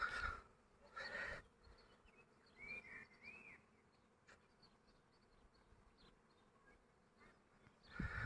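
Honey bees buzz softly around a hive at the end of the rapeseed bloom, a faint steady hum with a few louder passes of single bees close by.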